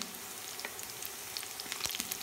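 Fenugreek seeds and chopped garlic fry in oil while being stirred continuously, as a tempering for drumstick dal. A faint, even sizzle is broken by scattered crackles and pops, with no talk.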